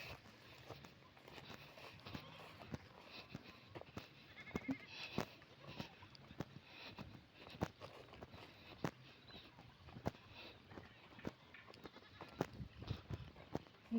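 Four goats bleat here and there in an open grazing area, against a busy outdoor background of footsteps, scuffling and faint voices.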